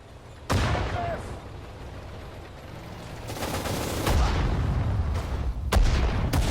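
Howitzer shelling in the WWII strategy game Sudden Strike 4 near Sedan: a sharp blast early and another near the end, with rolling, rumbling battle noise and scattered gunfire between.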